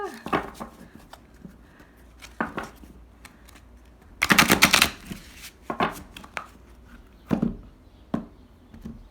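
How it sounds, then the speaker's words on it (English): A large deck of cards being shuffled in a handful of short riffling bursts, with one longer flurry in the middle, close by, amid quiet handling sounds and pauses. "Sometimes this bigger decks are hard to shuffle."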